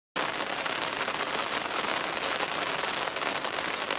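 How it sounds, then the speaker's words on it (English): Steady rain pours onto a sailing yacht moored in a Turkish marina, a dense, loud, continuous hiss of drops drumming on the deck with no voices. "as forecast rain, and here it is, and I think we're going to get about 2 hours of this"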